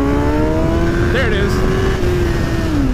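A Kawasaki ZX10R motorcycle engine on a dyno holds a loud, steady high-pitched drone, rising slightly and then easing off near the end, while a person speaks briefly over it.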